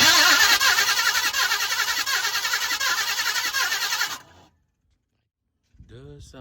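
A 1971 Chevrolet Monte Carlo engine cranks and catches, running loud and rough for about four seconds before cutting out abruptly; after a short silence, a voice speaks briefly nearby.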